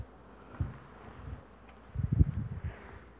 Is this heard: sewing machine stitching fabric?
no